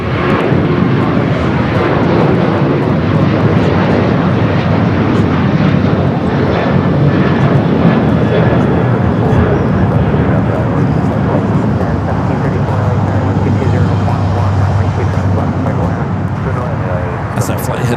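Airliner departing LAX for San Francisco, a loud continuous engine roar holding steady throughout, with a voice speaking over it.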